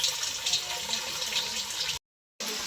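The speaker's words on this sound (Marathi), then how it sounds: "पाणी भरून घेते आता" Water runs from a tap into a container in a steady, close rushing stream that cuts out abruptly for a moment and then resumes, with no talking.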